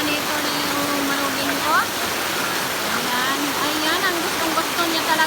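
River water rushes steadily where people are bathing in a stream, a broad continuous flow close by, with voices talking and shouting over it.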